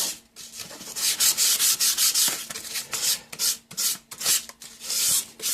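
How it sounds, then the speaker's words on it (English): Hand sanding the edge of a wood pinning tray with a small piece of 600 grit sandpaper: close, brisk rubbing strokes in quick repeated bursts, with short pauses between passes and no talking. "Let's get a little piece of sandpaper off of here. And just run it along the edge."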